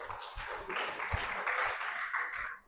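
Church congregation applauding during a sermon at GBI BSB Sorong, a moderate spread of mixed claps with a few louder taps, steady for a few seconds before trailing off.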